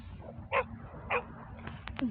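A nearby dog gives a few short barks and yips, spaced out, over a low background rumble, at Barceloneta beach in Barcelona, Spain.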